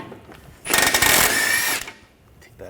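An impact-style power tool fitted with an 18mm socket spins off the lower ball joint nut on a 2013-2019 Ford Escape front suspension, one loud rattling whir lasting about a second, close with no talk.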